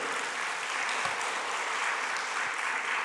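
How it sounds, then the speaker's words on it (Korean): A church congregation claps steadily together after a Sunday sermon, a dense, even wash of applause that runs for about three seconds without pause. "우리 주님 하나님께 영광의 박수."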